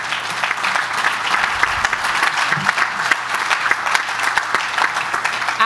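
Loud, sustained applause from the audience at a policy conference, honoring Detroit Mayor Mike Duggan: many hands clap densely and evenly throughout, close and full.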